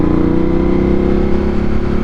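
A 2025 Ducati Panigale V2S with a loud, non-street-legal aftermarket exhaust runs close by, giving a continuous, steady, rattly engine drone with no break.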